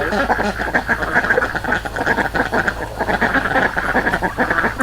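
Several ducks quack continuously and loudly close by, a dense overlapping chorus with a low steady hum underneath.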